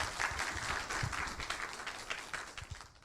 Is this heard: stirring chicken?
no